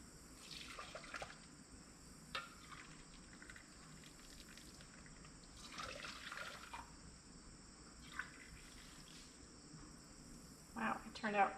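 Liquid from cooked cherry tomatoes poured into a pot in a few faint, brief splashing bursts, heard over a steady high-pitched background whine.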